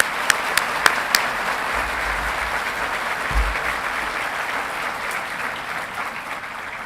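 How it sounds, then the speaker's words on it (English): An audience at an engineering college commencement applauds the platform party, a dense sustained wash of clapping from a large crowd, with a few sharp louder claps near the start and a low thump partway through. "I'd like to ask for just recognition through an applause for the platform party."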